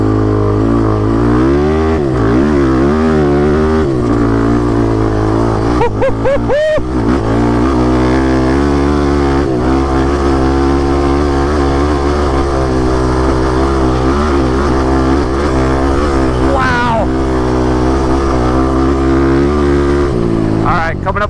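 Garage-built race motorcycle on 18-inch tires pulling hard at full throttle, engine roaring loud and close with repeated rising pitch sweeps through the gears, brief dips at shifts, and steady wind noise throughout.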